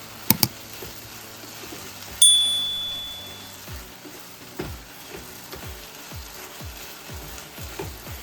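Vermicelli cooking in water in a pan is stirred with a spoon, making repeated soft scraping strokes in an uneven rhythm over a faint simmer, with a couple of sharper clinks near the start.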